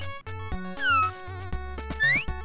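Video game cat character from Robot Wants it All, giving a few synthetic meows over a bouncy electronic game soundtrack, two distinct rising squeaky cries, with no talking.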